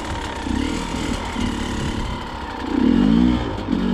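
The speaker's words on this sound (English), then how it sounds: "just playing with the clutch." Enduro motorcycle engine revving in short bursts as the rider works the clutch, with a louder, rising rev near the end; close and fairly loud, no talking.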